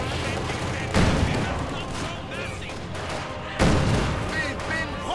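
Gunfire and explosions in the strategy video game Company of Heroes 2, dense rattling shots and two heavy booming impacts over a busy battle soundscape, with a voice commentating throughout.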